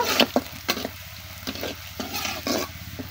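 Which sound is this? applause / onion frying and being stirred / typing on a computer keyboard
onion frying and being stirred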